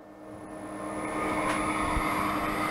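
A 6040 CNC router spindle spins up toward 10,000 rpm, its whine rising and thickening over a couple of seconds into a steady, fairly faint high hum, with no talk.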